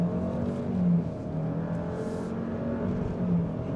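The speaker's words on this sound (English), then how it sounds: "what the engine's doing is it's doing the rev thing as if it's geared" A 2025 Chevy Equinox engine with a CVT revs from inside the cabin in simulated stepped shifts, a moderate whirring drone that rises and dips in short steps.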